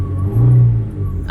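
A car engine labours loudly and close up, rising into a brief strained swell before easing off, as the car rolls backwards on a slope with a faint voice near the end.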